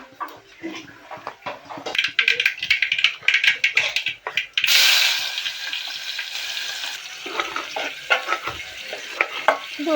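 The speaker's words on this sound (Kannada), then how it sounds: "ಇದು ಉಳ್ಳಾಗಡ್ಡಿನ ಕೆಂಪಾಗಿ ಹುರ್ಕೋಬೇಕು" Chopped onions fry in oil with mustard seeds, cumin, coriander and turmeric while a spoon scrapes and stirs the pan in bursts, the sizzle swelling loudly midway and then settling into a steady hiss.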